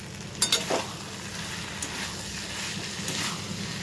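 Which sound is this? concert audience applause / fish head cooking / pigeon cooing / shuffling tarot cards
fish head cooking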